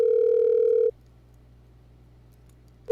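A telephone ringback tone sounds while a call connects: one steady electronic beep of just under a second, a pause of about two seconds, then the next beep starting, clean and alone.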